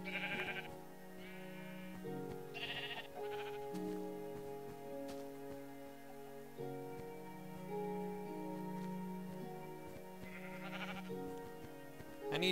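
Sheep in the Minecraft video game bleat repeatedly, several short nasal baas scattered over a continuous bed of game background music.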